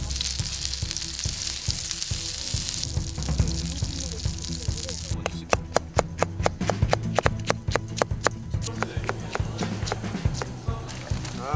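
A kimchi pancake of kimchi in flour dough frying in a pan at an outdoor Korean kimchi festival, a steady hiss and sizzle with clinking utensils and faint crowd chatter.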